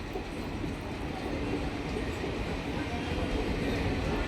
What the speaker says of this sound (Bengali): দেখতে পাচ্ছেন এই মুহূর্তে প্রবেশ করছে train Baharampur court rail station